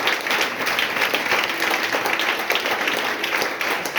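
A church congregation applauds together during a worship service, dense steady clapping filling the space evenly and loudly from start to end.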